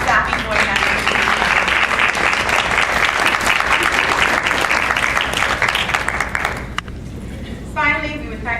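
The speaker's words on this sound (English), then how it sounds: "So if you guys can please stand so that we can give you a round of applause." Audience applause for board members at a 25th anniversary celebration, a loud dense clapping that fills the hall steadily, then thins and fades near the end as a few faint voices and tonal sounds remain.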